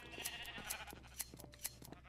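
Sheep being sheared on a Minecraft farm: several quick snipping clicks in a brisk irregular run, mixed with faint bleats, soft and close.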